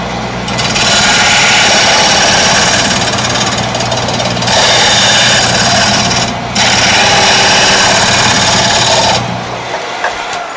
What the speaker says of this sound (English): as you're grinding, you're grinding over the whole chisel